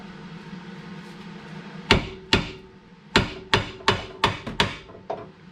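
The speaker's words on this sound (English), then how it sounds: "Just hammer the side of it, and it should drop out." A hammer strikes the side of a tie rod end on a 1999 Camaro's suspension, giving about nine loud, sharp metallic whacks at an uneven, quickening pace, close up with no talk.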